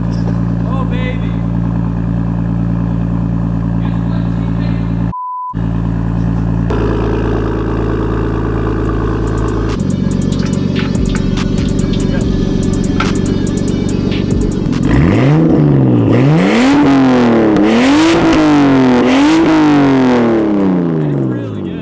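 A stock Nissan RB25 Neo engine idles steadily, then revs up and down in repeated rising and falling sweeps, with a faint turbo whistle riding on top. People talk over the engine throughout.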